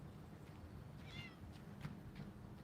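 A cat gives one faint, short meow over steady low background noise outdoors in a garden, with the call fading quickly and nothing else clearly standing out.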